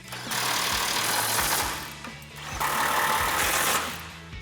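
An impact wrench with an 18mm socket tightens the control arm bolts on a 2007-2015 Chevrolet Silverado 1500, giving two loud, close bursts of rapid hammering rattle separated by a brief pause.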